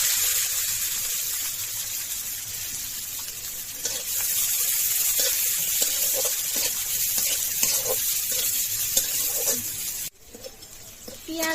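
Chopped garlic and onion fry in hot oil left over from frying fish, making a continuous, close hiss and sizzle with soft scraping stir sounds, then a brief dip near the end.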